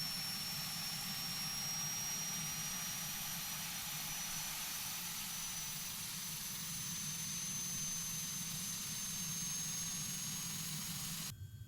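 A Short 330 twin turboprop engine spins up in a flight simulator game, a loud continuous whine and roar with a steady low propeller drone and a thin rising tone, unbroken for several seconds before cutting off.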